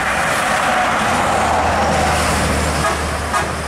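Long, loud horn blast from an MPM Nan Kanduang bus, a steady sustained tone held for several seconds over heavy road and engine noise.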